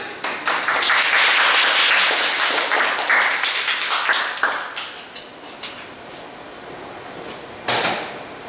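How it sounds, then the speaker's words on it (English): Audience applause welcoming a Greenpeace speaker at a talk on anti-greenwashing campaigns, a dense wash of clapping that swells early, thins after about five seconds and ends with a brief final burst. "let's all welcome Lydia with a round of applause"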